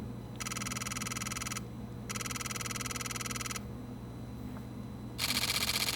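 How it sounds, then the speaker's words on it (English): A Fujifilm camera's electronic shutter, with an added shutter sound, fires in three rapid bursts of even clicks, the last burst louder and brighter, separated by short quiet gaps. "That's the electronic shutter with a sound added for impact."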